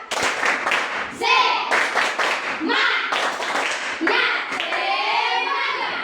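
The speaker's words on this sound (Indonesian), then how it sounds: "Tepuk semangat." Students in a primary school classroom clap together in a rhythmic patterned cheer, quick bursts of hand claps and taps broken by short pauses, with children's voices calling along over the clapping.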